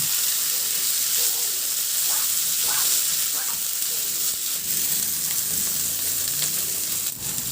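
Tomatoes fry in a hot pan alongside onions, a dense continuous sizzle and hiss up close with a few soft stirring knocks, no one talking.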